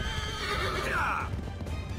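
A horse neighs loudly in Assassin's Creed 3, a rising whinny over galloping hoofbeats and game background noise.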